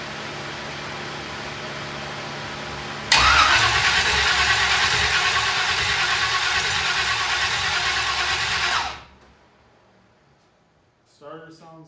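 A Pontiac Firebird's newly fitted 305 V8 engine cranks over, then catches and roars loudly and steadily for several seconds before cutting off abruptly, followed by a brief voice.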